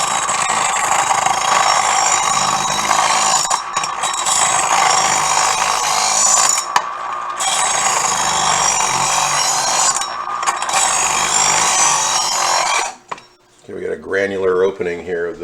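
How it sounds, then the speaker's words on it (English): A kitchen knife is held against a powered grinder, giving a loud, steady abrasive whine that runs almost continuously with a few short dips, then cuts off near the end as a voice speaks. "We're going to go ahead and do some knife sharpening."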